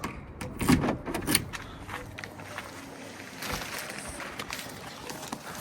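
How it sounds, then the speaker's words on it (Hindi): Close by in a quiet room, a door is pushed shut with a couple of quick knocks and thuds early on, followed by faint shuffling and low background noise. "दरवाज़ा भी सही बंद कर दूँ।"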